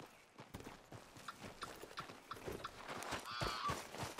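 Horse hooves clip-clop in a rhythmic, uneven walking gait in the video game Red Dead Redemption 2, moderately close, with soft tack and ambient outdoor noise around the hoofbeats.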